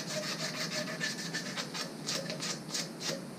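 Steady abrasive rubbing and scraping as an orbital sanding pad removes corrosion from metal on a Silverado, a continuous gritty sanding noise with rhythmic strokes, close up and fairly even in loudness.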